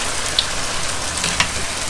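Tortilla chips fry in a batch of hot oil, giving a dense, loud, continuous sizzle and crackle with small pops, heard alone.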